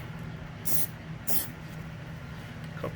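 Two short, sharp hissing bursts of Plasti Dip Black spray coating applied to a vehicle hitch wiring harness, close and distinct over a low background hum.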